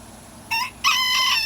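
A rooster crows loudly and close by in a backyard flock, a brief opening note followed by a longer drawn-out cock-a-doodle-doo call.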